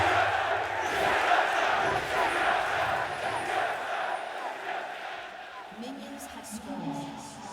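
A large esports arena crowd at a League of Legends LCS spring finals match roars and cheers in a sustained wash of noise, with a commentator talking over it throughout.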